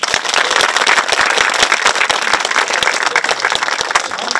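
Audience applause after a film screening at a talk show event, a steady, loud burst of many hands clapping with sharp individual claps standing out, filling the whole clip without talk.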